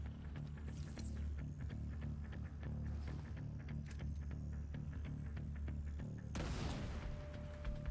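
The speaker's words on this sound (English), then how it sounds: "Let's throw some grenades at it." Grenades are thrown at stockpiles in a video game, and several heavy booms and crackling blasts burst over a constant low rumble of game noise.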